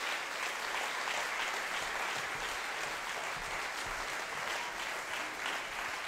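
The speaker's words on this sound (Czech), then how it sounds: "Potlesk patří vám." Audience applause fills the hall at a children's choir concert, a steady dense clapping from many hands that holds evenly throughout without pause.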